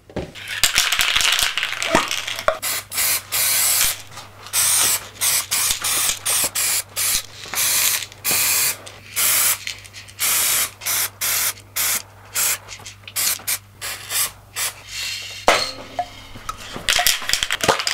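Aerosol spray paint being applied to rust-treated metal, heard as repeated short hissing bursts of varying length in an irregular rhythm, close and fairly loud, with a steady low hum underneath and no talking.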